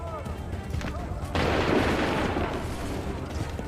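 Musket volley gunfire in Assassin's Creed 3 erupts as a sudden, loud, dense burst of overlapping shots and rumble that trails off slowly, with voices talking before it.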